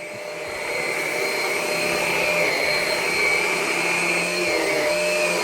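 A Henry Quick bagged cordless stick vacuum running steadily on its regular setting, a continuous close whine with a strong motor hum that swells slightly after the first second and then holds even.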